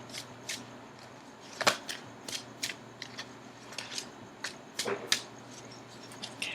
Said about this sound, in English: So I will shuffle for a few more seconds and then I will cut the cards